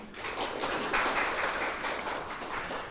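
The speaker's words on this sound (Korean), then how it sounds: "큰 박수로 환영해 주십시오" A lecture audience applauds to welcome a photographer to the podium at a photography class, with steady, moderately loud crowd clapping that is brief and continuous and has no talk over it.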